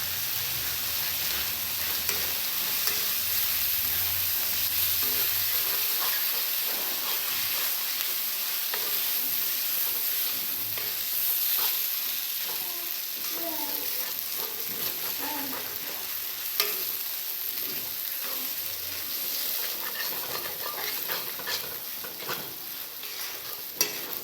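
Grated raw turmeric cooks in ghee over a low flame while being stirred, giving a soft continuous sizzle with light scraping and occasional small pops, steady and close throughout.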